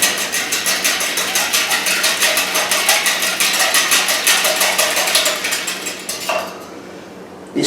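Teriyaki and soy sauce brine for trout stirred briskly in a bowl, a steady run of quick clinking, scraping strokes for several seconds that stop near the end, with no talking.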